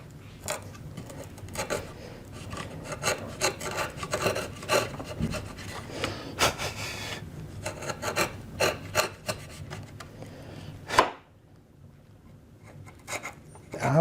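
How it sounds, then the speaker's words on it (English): A chisel scrapes and shaves into a wooden stave while cutting the bottom groove, with irregular close rasping strokes and sharp bursts, one loud knock near the end and then quiet. "Now I can stick the chisel right in that bottom marking."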